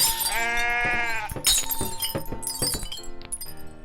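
A goat bleats in the video game I Am Bread's Goat Simulator mode, with a long wavering cry followed by shorter bleats, mixed with glassy clinks and breaking sounds from the game, loud and close.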